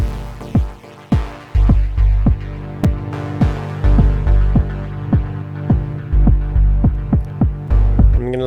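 Dub Diva synth pad preset named Timeless Ambience, playing alone as a sustained, loud chordal tone with a repeated pulsing, throbbing low attack roughly every half second throughout.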